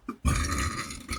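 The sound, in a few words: burp after eating spicy egg, rice and chilies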